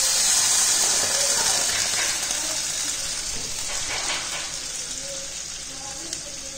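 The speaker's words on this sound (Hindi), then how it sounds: "अब मैं इसके अंदर दो गिलास पानी ऐड कर दूंगी।" Two glasses of water poured into a cooking pan over hot masala while making vegetable masala Maggi, a loud steady gushing hiss and sizzle that runs throughout and eases slightly toward the end, with no talk.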